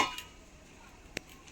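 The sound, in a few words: covering the pan with a metal plate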